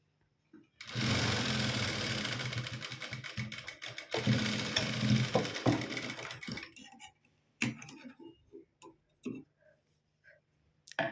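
An electric sewing machine stitches the folded edge of a blouse, a fast close whirring run of needle strokes for several seconds, then stopping and giving a few short stitching bursts with clicks between.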